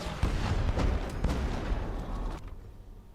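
Grenade explosions from the video game Evil West: a rapid run of heavy booms and blasts. They crowd together over a steady roar, then cut off abruptly into a quieter tail.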